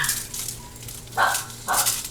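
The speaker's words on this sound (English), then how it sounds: "See, it had to happen, right? Dogs just had to start up." Dogs bark outdoors near a smoker during brisket preparation, two sharp barks standing out over a quiet background hum.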